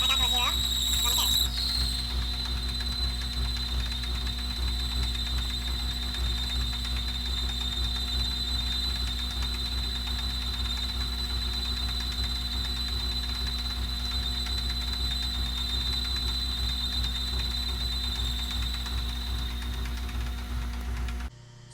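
A lathe cuts a custom wheel spacer for a Yamaha XS650 motorcycle, running with a steady high-pitched whine and a low mechanical hum for about twenty seconds before it stops abruptly.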